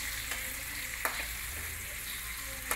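Beef fries in a pan with a steady, low crackling sizzle, broken by a couple of quick stirring scrapes near the middle and end, close and moderately quiet with no voices.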